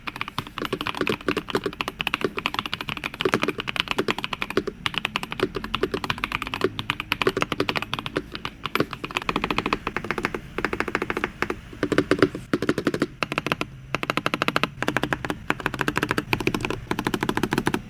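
A Royal Kludge S98 mechanical keyboard is typed on in a fast, continuous stream of crisp clacking keystrokes, close and clear with no talking.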